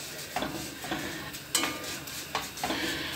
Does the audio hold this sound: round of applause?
no